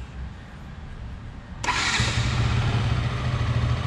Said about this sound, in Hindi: give you the exhaust note